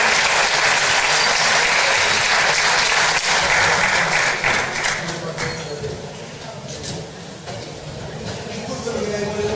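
An audience applauds loudly and steadily for the mayor of Vicuña at a municipal public accounts ceremony, with the sustained clapping easing slightly partway through before swelling again.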